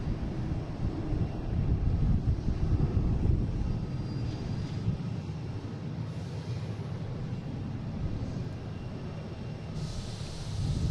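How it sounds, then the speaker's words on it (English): A Delta Embraer E175 jet taking off at Boston Logan makes a low, rumbling roar heard at a distance, muffled by microphone wind buffeting and fairly steady throughout. "All right, taking off, we have Delta heading to Columbus in E175."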